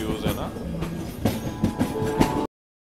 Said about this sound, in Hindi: ट्रेन बज रहा है।